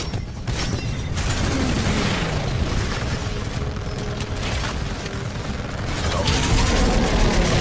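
Titan salvo core missile barrage in the Titanfall 2 video game: a dense, sustained roll of rapid booms and bursts layered over mechanical whirring, loud and continuous throughout.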